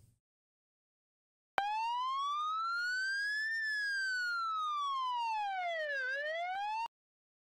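A loud synthetic siren from an ambulance in the video game Emergency 4 wails for several seconds, rising and falling in pitch in a smooth sweeping cycle, then cuts off abruptly, with no other sounds.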